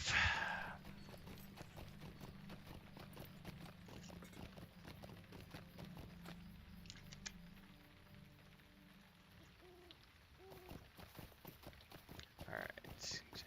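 A horse's hooves clip-clop in a steady, even rhythm while riding in the Lord of the Rings Online video game, moderately close, with a soft ambient bed and a few brighter accents.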